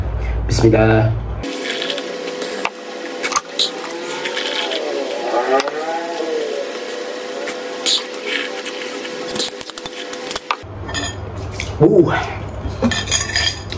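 A metal fork scrapes and clinks against a bowl of instant noodle soup again and again, close up, with a steady hum in the background and occasional talking.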